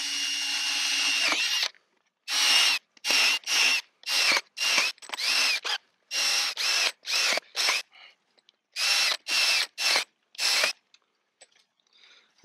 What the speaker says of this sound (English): We're just going to drill holes in here.